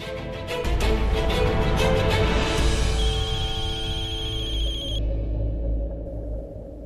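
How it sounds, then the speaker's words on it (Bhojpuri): A phone rings with a steady electronic ringtone, repeating tones that carry for several seconds before cutting off. "दिव्या के फोन"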